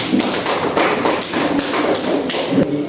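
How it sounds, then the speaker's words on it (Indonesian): Classroom applause from a group of students, a dense, steady patter of many hands clapping close by, sustained evenly for several seconds with no talking. "Ayo kita kasih aplaus untuk kita semua."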